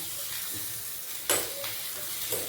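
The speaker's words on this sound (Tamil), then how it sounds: "கொஞ்சம் வேகட்டும். மாற்றி போட்டுருவோம்." An omelette sizzles steadily in a pan, a close, even frying hiss with a couple of brief louder scrapes or spatters.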